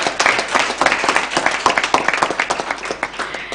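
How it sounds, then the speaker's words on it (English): Audience applause at an all-Kenyan moot court competition, a dense patter of many hands clapping steadily and fairly loud for a student across the whole stretch, with no voice standing out. "So let's clap for Mr. Hamisi."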